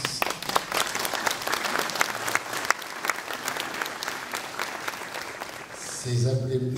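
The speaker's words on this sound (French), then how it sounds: "ces applaudissements vous souhaitent la bienvenue." Warm crowd applause at a mayor's New Year greetings ceremony in Marcigny, welcoming a new public-road security officer; many hands clapping briskly, then fading as a voice starts speaking at the end.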